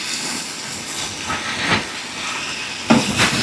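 Tomatoes and an egg cooking in olive oil in a pan on a portable two-burner camping stove, with a steady close sizzle and hiss and a few brief pops, and no talking.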